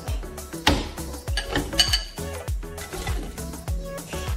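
Ingredients dropped one after another into the pot of a Moulinex Cookeo multicooker, giving a run of close clanks, clinks and thuds of food and utensils against the metal bowl in an uneven rhythm.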